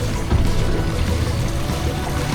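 Water gushes and gurgles steadily through the bait tubes of a live well aboard a Bluewater 2850 center console fishing boat, a constant close pouring rush under the boat's low hum.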